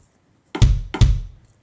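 A Pyle TED01 electronic drum pad fires two kick drum hits in quick succession, deep punchy thumps close up with short decays, alone in an otherwise quiet room.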